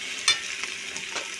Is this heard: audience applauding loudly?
no